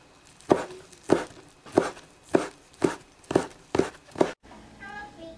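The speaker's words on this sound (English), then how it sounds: "And after that, mince it a little small." A knife mincing thinly sliced char siu pork on a board, about eight evenly spaced, crisp chops in quick rhythm, close and clear, then a short quieter tail.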